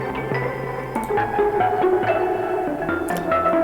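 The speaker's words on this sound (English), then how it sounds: "I took the sample and I put it into a granular sample synthesizer. And these are some of the sounds I managed to get from it." Arpeggiated granular synthesizer tones built from a sample step in a quick repeating pattern of bright, shifting pitches with reverb and delay, heard without voices.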